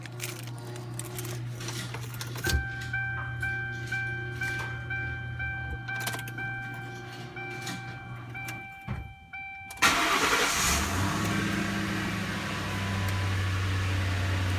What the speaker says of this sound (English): we're going to head to start the car